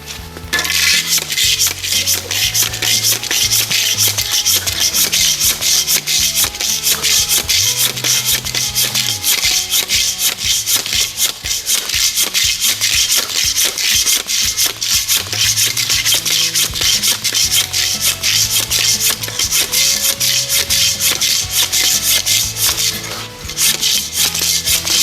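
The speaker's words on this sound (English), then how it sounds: "we're going to take up that floor with a razor hand scraper" A razor hand scraper scrapes up a floor covering cut into 50 mm (2-inch) strips, making loud continuous rasping and scratching with rhythmic strokes close by, no talk.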